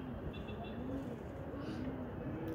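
Pigeons coo softly in a low, rolling murmur, several birds overlapping at a steady moderate level, with a faint voice in the background.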